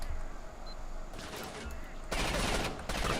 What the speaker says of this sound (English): What in God's name are you shooting with?